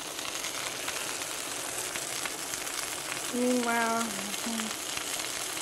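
Sausage with Italian seasoning sizzling and frying in a pan, a steady close crackle throughout, with a person speaking briefly over it partway through.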